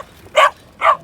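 A border collie gives two sharp, close barks about half a second apart during a bike joring run.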